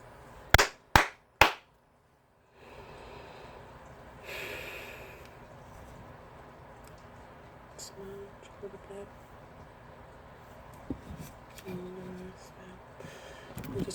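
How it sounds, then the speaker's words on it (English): Three sharp hand claps in quick succession, loud and close, followed by a quiet stretch of room tone with faint breathing and small clicks. "we're going to clap 3 times and clear out the energy"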